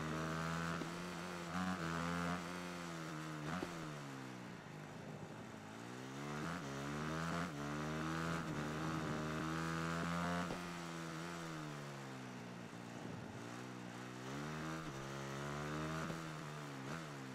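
Motorcycle engine in the video game Ride 3, revving up and down repeatedly with a droning, synthetic tone, rising and falling pitch sweeps throughout; no talking.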